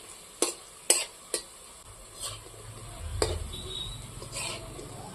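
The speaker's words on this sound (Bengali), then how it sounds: "ডালের বড়া ভাজাটা কি সুন্দর হয়েছে" Masoor lentil fritters frying in hot oil, with a few sharp close clinks and stirring knocks at the start, then a soft, steady sizzle underneath, with no talk.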